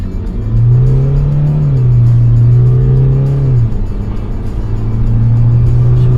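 A diesel Mercedes C200 with a Stage 1 tune pulls hard and loud, its engine droning up through the gears with a steady rising rumble, one brief dip, then a renewed climb in revs.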